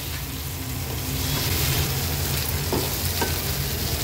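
Mashed goat brain being gently stirred into a masala gravy in a hot pan, giving a continuous dense sizzle and frying hiss with soft scraping stir noises throughout.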